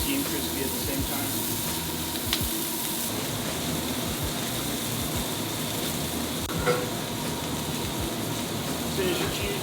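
Smash burger patty topped with cheese sizzling on a flat grill, a steady crackling fry throughout with occasional sharper pops, close and fairly loud.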